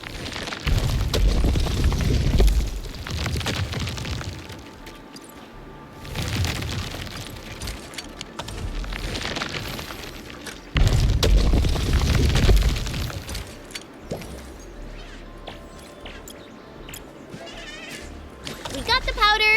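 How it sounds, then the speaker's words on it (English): A shredding machine in Arknights: Endfield grinds originium ore to powder, giving heavy rumbling bursts that come and go over about twenty seconds under a talking voice. "I say it's time to shred some originium ore to powder."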